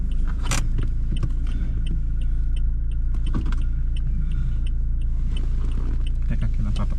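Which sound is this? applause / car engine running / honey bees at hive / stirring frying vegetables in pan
car engine running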